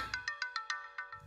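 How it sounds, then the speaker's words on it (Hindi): A bright electronic phone ringtone plays alone, a quick repeating series of beeping melodic tones, loud and close. "आंटी अर्जेंट फोन है, प्लीज"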